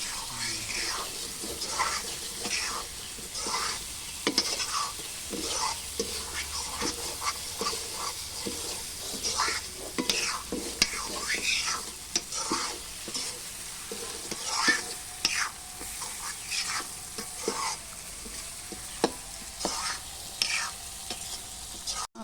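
Masala sizzles in oil in a pot over a wood fire, with repeated stirring scrapes over the steady frying hiss and soft voices murmuring nearby.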